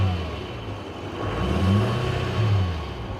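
Duramax diesel engine of a 2015 GMC Sierra 3500 rumbling at a low idle with a couple of gentle swells in revs; a steady, fairly loud, close drone without speech.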